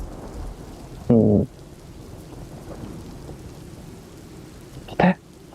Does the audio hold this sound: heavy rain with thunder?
yes